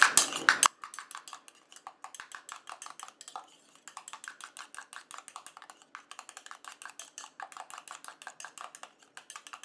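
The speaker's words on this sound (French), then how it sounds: "Je viens mélanger." A utensil stirs a serum mixture with a few drops of vitamin E in a small bowl, giving a steady, fast series of light clinks and taps against the side, close and alone.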